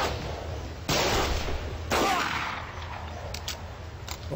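Gunshots in the game Mud & Blood 2, two sharp loud reports about a second apart over a steady, hissing battle background, followed by fainter distant pops.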